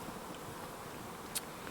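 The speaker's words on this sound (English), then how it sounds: "we got all the bees divided up into their nucs" Honeybees buzzing around hive nucs, freshly divided from packages at an Alaska apiary: a faint, steady hum with one brief sharper buzz near the end.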